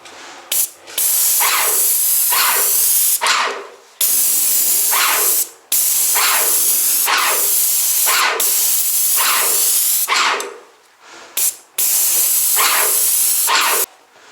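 Loud hissing bursts of an airless paint sprayer coating tongue and groove boards, several passes of a few seconds each separated by brief pauses, close by with no talking.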